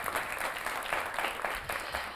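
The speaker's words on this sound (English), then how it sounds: "A round of applause for him." An audience claps steadily at a spelling bee event, a dense round of applause that holds at even loudness throughout with no talking over it.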